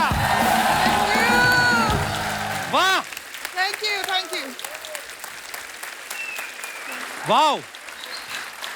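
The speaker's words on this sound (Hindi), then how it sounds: "ओ जोरदार तालियां!" A studio audience at a Hindi TV comedy show bursts into loud applause and cheering that fills the first few seconds, then fades as voices speak and exclaim over it.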